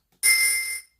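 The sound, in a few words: pitch-tuned Sonic ring sound effect from the Sonic video game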